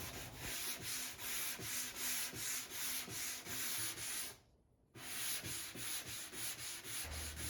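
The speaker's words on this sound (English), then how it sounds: "I am going to be sanding in the direction of the wood grain with 220 grit" Steady rhythmic scraping of 220-grit sandpaper rubbed back and forth along the grain of wood, close and loud, with a brief pause midway before the strokes resume.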